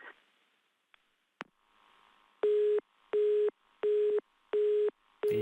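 A telephone busy tone after a caller's line drops, five evenly spaced loud beeps with equal gaps, preceded by a few faint clicks and line noise.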